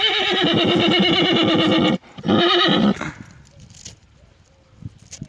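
A mare neighs loudly and close by in a long, shaky whinny, then gives a shorter second call, followed by quieter shuffling.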